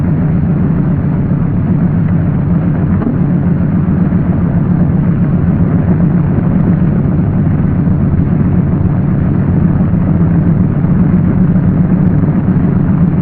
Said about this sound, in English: Now you start the right engine.